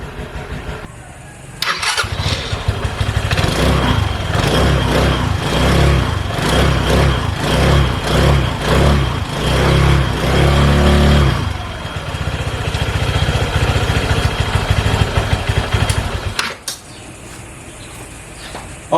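A Easyride 150P motorcycle engine starts and then idles close by, a steady loud rumble running through most of the stretch, pulsing unevenly at first, then settling before the engine cuts off near the end.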